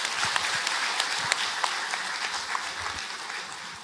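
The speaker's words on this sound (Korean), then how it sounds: "박수 한번 부탁드립니다." A lecture audience applauds, a steady crowd of clapping hands with a few sharper individual claps standing out, continuing throughout.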